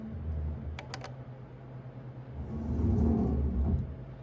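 A Bernina 335 sewing machine stitches a buttonhole, its motor giving a low, steady hum and rumble with a few quick clicks of the controls, then a louder stretch of rapid stitching.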